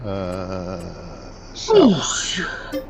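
A person sneezes once, loud and close, with a sharp burst after a moaning, strained voice, in the middle of casual talk.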